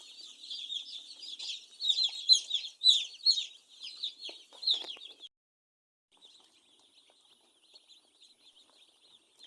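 Day-old broiler chicks in a brooder cheep in a dense, high-pitched chorus of rapid peeps, fairly loud at first, then thinning to a few scattered, fainter cheeps after a short pause.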